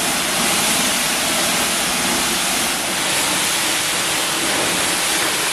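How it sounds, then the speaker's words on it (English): Water poured onto heated quartz hisses and boils off in a loud, steady, broadband rushing sizzle that holds evenly throughout. "All of that water up until this point had evaporated on top of that quartz"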